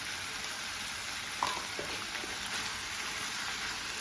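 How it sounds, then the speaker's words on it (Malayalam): Chicken with turmeric powder frying in a pan, a steady hiss of sizzling oil running throughout with a few faint stirring scrapes, close and even, no talk. "ആദ്യം കയറുന്നത് വരെ നമുക്ക് ഇളക്കി കൊടുക്കണം കേട്ടോ"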